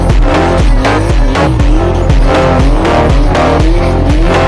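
A BMW E34 drifts at Dundaga, its engine revving hard in rising and falling sweeps under steady tire squeal, loud and close for the whole stretch with no pause.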